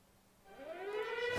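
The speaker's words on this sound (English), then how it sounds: "When you just hear the siren go, you kind of go to a little bit of a panic." A warning siren from the survival video game 60 Seconds rises in a long upward wail, starting low and quiet, then swelling in pitch and loudness toward the end.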